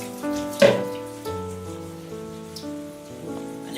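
Water from a jug pours over pasta in a close, steady splash lasting several seconds, alongside ringing tonal clatter from the cookware and no speech.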